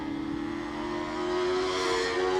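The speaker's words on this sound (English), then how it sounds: "Not hanging about, and that car sounds really nice. That engine revving away." A race car on a hillclimb course at Doune revs its engine during a morning practice run, a steady droning note that climbs slightly in pitch as it pulls away, heard alone at moderate distance.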